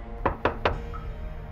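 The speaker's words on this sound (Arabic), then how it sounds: "نهضت متوجسة إلى الحمام وقرعت الباب في رفق" Three sharp, evenly spaced knocks on a bathroom door, close and clear, followed by quiet.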